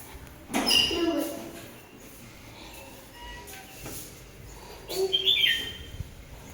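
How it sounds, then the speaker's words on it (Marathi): Sparrow at its nest giving a few short, sharp chirps at close range, in two brief clusters separated by quiet background noise. "चिमणी आहे"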